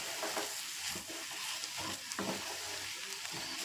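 Egg and grated coconut fry sautéing in a pan over high flame, a steady sizzle with scraping stirs of a spatula throughout, close and continuous with no talking.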